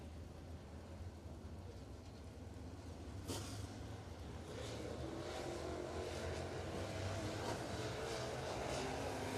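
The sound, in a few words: late model race cars on track for hot laps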